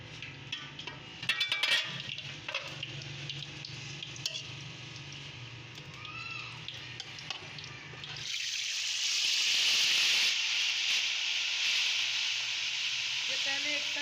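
Whole chargha chicken dropped into hot ghee, starting with clatter and low talk, then breaking into a loud, steady sizzle and hiss of frying that holds to the end.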